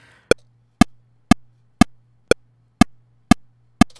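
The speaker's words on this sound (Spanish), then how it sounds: "ahí ya está sonando el metrónomo" Pro Tools metronome click at 120 BPM, eight sharp, evenly spaced ticks about half a second apart, loud and isolated over a faint low hum.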